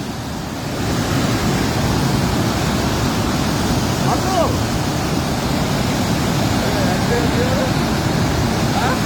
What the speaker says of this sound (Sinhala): කොච්චර වේගයකින් වතුර වැටෙන්නේ